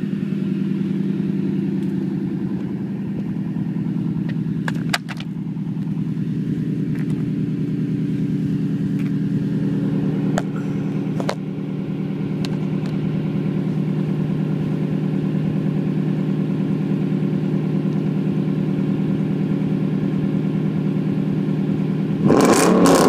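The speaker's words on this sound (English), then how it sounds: "This is without a doubt one of the baddest sounding trucks I've ever heard." A pickup truck engine idling with a deep, steady rumble, then rising into sharp revs and a final loud blip, heard up close with no talking.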